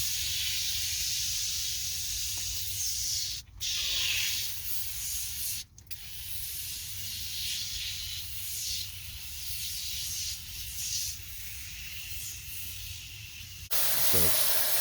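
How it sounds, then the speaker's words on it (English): Foaming degreaser hisses from a sprayer onto a greasy 1965 Ford F100 engine, a broad close airy spray broken by two short pauses, with a shift near the end. "With super greasy things like old nasty engines like the one in this 65 F100, you can use this foaming spray."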